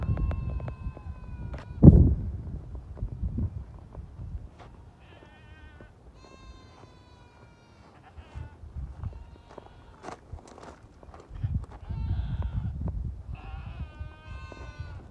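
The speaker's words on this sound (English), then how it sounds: "I don't know what in the world the goats are screaming about." Goats bleat and cry out in short, wavering calls near and far in a windy garden, mixed with footsteps and rustling, and a heavy thump stands out early on.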